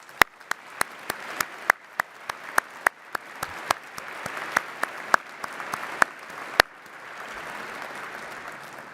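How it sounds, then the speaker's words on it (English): Applause from a defense forum audience, a steady crowd clapping punctuated by sharp, evenly spaced loud claps or bangs near the microphone, the sharp hits stopping partway while the broad clapping fades and continues. "So let's give these outstanding public servants a round of applause."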